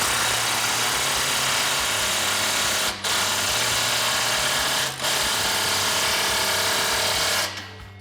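Ratchet tightening an exhaust clamp on a 2018-2019 Mustang GT with a Pypes axle-back exhaust: a fast, continuous buzzing clicking close by and steady, broken by two brief pauses before stopping near the end.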